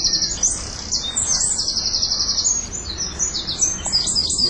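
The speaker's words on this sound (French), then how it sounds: "Les troglodytes mignons, appelés également roitelets, c'est un petit oiseau qui sait bien entendre." A Eurasian wren sings in an autumn park, its rapid high trilling phrases running continuously and fairly close over a low background rumble.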